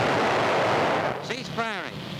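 Artillery fire in a wartime film, a heavy booming blast with rumbling roar at the start, then fading as a whining, whistling tone sweeps through.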